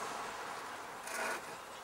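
A hand saw rasps through wood in short strokes while cutting a single dovetail, quiet and close, with a slightly louder stroke near the end.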